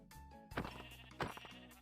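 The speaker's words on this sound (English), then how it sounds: "There, the sheep is like really annoying." Two quick sheep bleats from Minecraft sound one after the other, each a short wavering cry standing out clearly over quiet game background noise.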